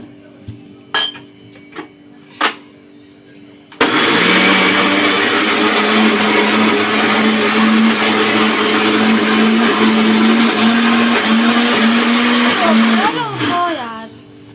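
A few brief clinks and taps, then a loud mixer grinder grinding soaked lentils whirs steadily for about ten seconds before winding down abruptly.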